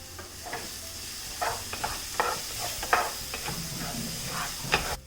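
Crushed jackfruit roasting in ghee with cardamom powder for jackfruit spring rolls, a gentle steamy sizzle broken by repeated close spatula stirs and scrapes.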